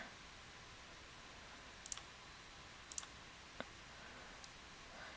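A computer mouse gives a few sparse, faint, sharp clicks over quiet room hiss, spaced about a second apart.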